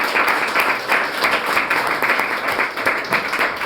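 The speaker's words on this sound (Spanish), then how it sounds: "Les pido un fuerte aplauso para Jorge Garcés Laureano, por favor." An audience at a debate event bursts into sustained applause, dense rapid clapping that stays loud and even throughout.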